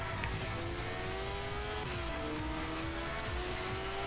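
A motorcycle engine whines steadily in the arcade racing game Moto Racer 4, with a gear shift partway through and tyre skid noise underneath, loud and unbroken from start to finish.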